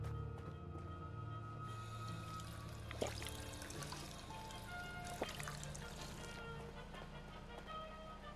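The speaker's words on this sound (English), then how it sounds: "go and to our water fountain and have a drink of water" A water fountain in the Fallout 4 video game runs with a steady, quiet stream of trickling, pouring water, with faint ticks and a low hum underneath.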